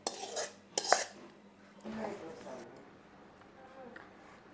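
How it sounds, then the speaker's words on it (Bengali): Chicken biryani served onto plates with utensils: a few close clinks and scrapes of spoon against dish early on, then softer scraping, with a voice speaking partway through. "এখন বাড়া হচ্ছে খাবার বাড়া হচ্ছে সবার জন্য"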